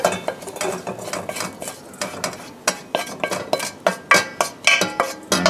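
Spoon clinking and scraping against a bowl as fried onions, garlic and rosemary are scooped out of the pan, a quick run of close, sharp metallic taps and scrapes with no talking.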